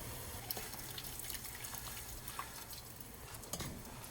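Cooked pasta draining in a pot in a home kitchen: a faint, continuous trickle of water with small drips and light clinks, fairly quiet and without talk.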